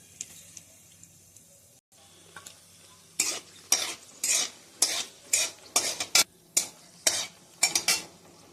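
Whole garam masala spices, a chilli and a torn bay leaf hit hot oil in a wok with loud, close sizzling bursts, several sharp crackling spurts repeating after a quieter stretch, with light stirring clatter from the pan.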